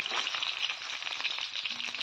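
Small pieces of live rohu fish fry in hot oil in a pan, giving a steady bright crackling sizzle at moderate distance, with no voices over it.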